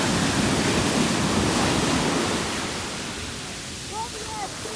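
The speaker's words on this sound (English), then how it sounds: "Look at these waves," Ocean waves breaking at a Barbados beach, a loud broad rush of surf that gradually eases and softens toward the end, with a faint voice or two briefly audible.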